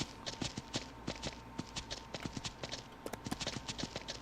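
A horse walks in Ranch Simulator, its hooves landing in a steady, close clip-clop rhythm over a low constant background, with no talking.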